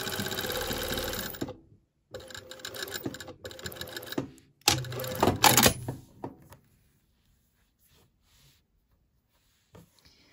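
A sewing machine stitches a seam allowance on pyjama pants in several close, rapid bursts separated by short pauses, then falls quiet for the last few seconds.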